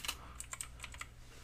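Quiet, quick keystrokes tap on a computer keyboard, a short irregular burst of clicks with no voices.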